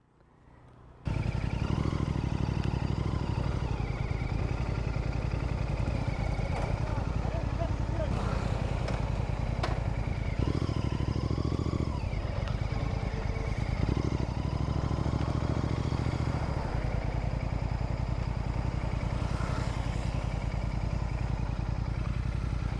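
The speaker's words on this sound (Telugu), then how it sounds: "చూడండి బైక్స్ అన్నీ రైడ్కి వచ్చిన బైక్స్" A group of Royal Enfield Interceptor 650 motorcycles rides together on a weekend outing near Visakhapatnam, giving a steady, loud engine drone with wind rush throughout. People talk over the noise.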